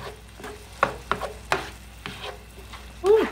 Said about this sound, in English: I'm gonna let this continue browning